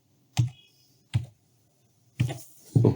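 Computer mouse clicks while editing audio tracks in DaVinci Resolve, four crisp separate clicks spaced apart, close and clear against near silence.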